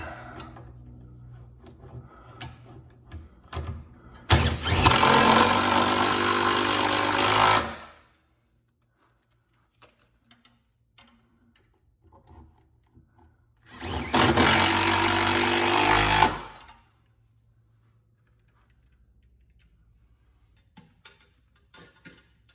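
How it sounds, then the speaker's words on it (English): A power drill drives screws into a folding garage shelf in two loud, sustained bursts of about three seconds each, separated by quiet gaps with faint handling clicks and taps. "Put the last 2 screws back in."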